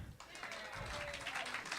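A showroom audience gives a round of applause for the lighting and sound technician, a soft, fairly distant patter of many hands clapping that runs steadily throughout, with a voice heard over it.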